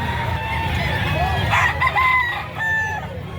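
A gamecock rooster at the Bocaue, Bulacan chicken market crows loudly and close, with a drawn-out call over low market background noise.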